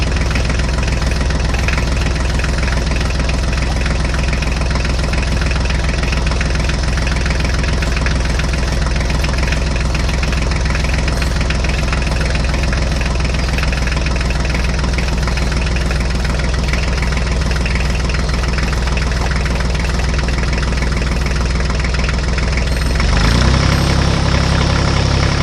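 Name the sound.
HMT tractor engine idling in a ditch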